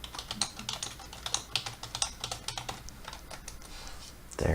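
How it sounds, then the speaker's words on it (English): Fingers typing a short test message on a computer keyboard, a close, uneven patter of key clicks for a few seconds before a louder thump at the end. "I'm just going to type a little test in here."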